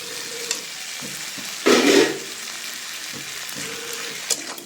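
Fish and potatoes fry in oil in a pan, a soft steady sizzle with one louder hissing burst partway through, close by and without speech.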